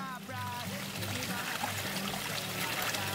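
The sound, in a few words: small stream trickling along the Deer Springs Trail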